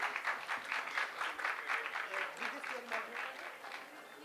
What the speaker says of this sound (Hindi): मैं चाहूँगी कि आप ज़ोरदार तालियों से स्वागत करें प्रतिभा शुक्ला जी का